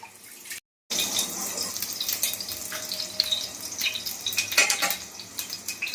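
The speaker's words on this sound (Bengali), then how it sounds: "ওই চিংড়ি মাছগুলো একটু ভালো করে ধুয়ে নেবো" Tap water runs steadily into a kitchen sink as prawns are rinsed by hand, with light splashing and faint clinks of a bowl or utensils close by, no voices.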